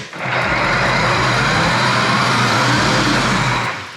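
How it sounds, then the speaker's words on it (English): RIDINGTON 24V kids electric go-kart motor whirs steadily with its wheels spinning freely off the ground, a loud, close, continuous hum that rises, holds for a few seconds, then tapers off. "Wheels are spinning."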